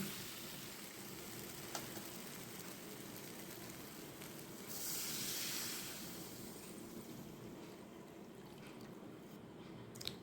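Water poured into a pan of sizzling soybean, potato and spice masala for a Bengali soybean curry: a continuous frying hiss swells into a brief louder gush, then settles back to a steady, fairly quiet sizzle with no talking.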